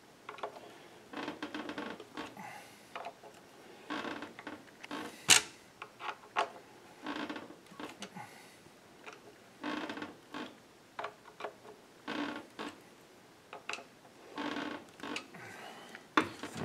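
Intermittent wooden creaks and squeaks come from a bolt-on guitar neck as its bolts are tightened snug, irregular short bursts repeating close up over the full length with no talk.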